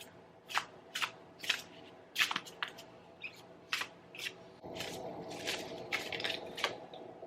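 A Thoth tarot deck is shuffled by hand, with quiet, close crisp riffles and card slaps coming in irregular bursts, and a soft background hum.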